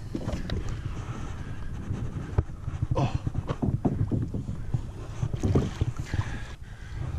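A kayak is paddled on open water during a mangrove jack fishing trip. Rhythmic paddle strokes splash and swish close by, with low wind buffeting underneath and no talk.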